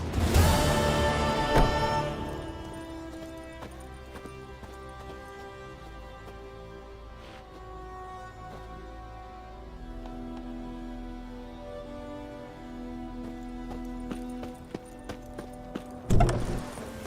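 Horse hooves clip-clop in a video game, a run of faint rhythmic hoofbeats under soft ambient game music, bracketed by louder musical hits at the start and end.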